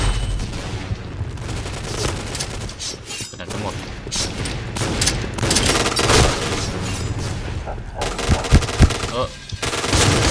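Gunfire from the Point Blank shooter game rattles in dense, rapid automatic bursts with booming hits, loud and continuous throughout, with brief pauses between volleys.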